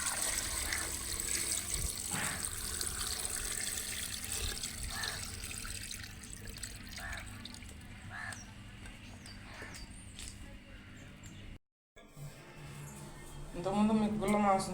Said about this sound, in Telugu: పొయ్యి మీద పెట్టి వాటర్ పోసుకొని ఉడకబెట్టుకుందాం.